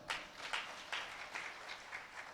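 A kirtan audience applauds faintly in a steady, rhythmic pattern of hand claps that pulses evenly for the whole stretch and sounds somewhat distant.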